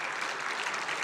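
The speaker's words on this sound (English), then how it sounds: "let's have a round of applause for the band" Audience applause for a jazz band, a brief dense patch of steady clapping from a crowd, even and sustained with no voices over it.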